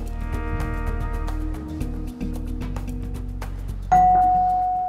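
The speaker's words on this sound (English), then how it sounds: "When the bell rings," A single electronic bell chimes at a National Geographic Bee competition, a clear ding that rings out and slowly decays near the end, following a steady tonal background with no talk.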